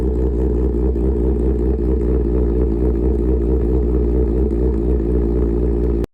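A Benelli 302R motorcycle fitted with an SC Project 51mm full-system exhaust idles loudly up close, a deep, steady, throbbing engine rumble that holds constant before cutting off abruptly at the end.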